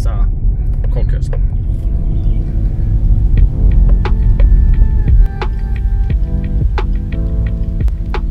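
A car drives a short stretch of road in South Africa, near the Birds of Eden bird park, with a steady low engine rumble heard from inside and voices faintly over it.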